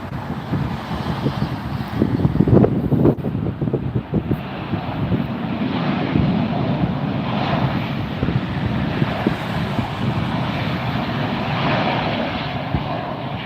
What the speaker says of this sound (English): And there it is. Alaska Airlines arrival.